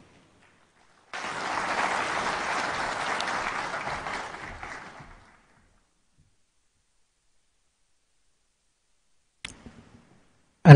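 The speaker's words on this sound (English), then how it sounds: "Another round of applause for Executive Chairman." A conference audience in Nairobi breaks into applause for about four seconds, dense and even before fading out, followed by silence and a couple of sharp clicks near the end.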